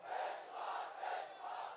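A large crowd at a political rally chants a slogan back in unison, rhythmic swelling shouts repeating about every half second, heard at a distance and fairly faint.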